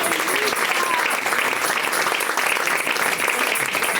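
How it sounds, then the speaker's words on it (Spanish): Church congregation applauding loudly together during a Spanish-language evangelical sermon, a steady dense wash of clapping that holds for about four seconds with a faint voice underneath. "Que le fuerte ese aplauso al Señor."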